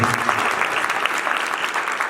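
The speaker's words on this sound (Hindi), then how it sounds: "जोरदार ताली दो।" Loud, sustained applause fills a church congregation, steady dense clapping throughout with no break.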